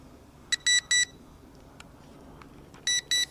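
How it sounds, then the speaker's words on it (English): Drone sounding its low battery warning before an automatic return to home over a field, with a pair of short sharp electronic beeps, a brief pause, then another pair, over faint background hiss. "what you hear there is the low power indicator, and it's gone into automatic return to home mode"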